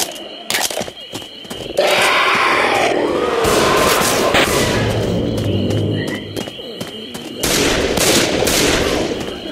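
Rapid bursts of gunfire from the Left 4 Dead 2 video game crackle almost without pause, loud and dense, with brief game voices mixed in.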